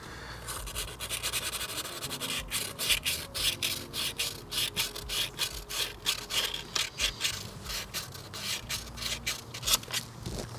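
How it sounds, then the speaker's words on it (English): A metal surface on a VW TDI engine is scraped clean during a water pump and timing belt job. Close, rhythmic rasping strokes repeat in quick bursts, growing faster and more regular toward the end, with no talk. "It's like a couple of scrapes just to get it nice and clean."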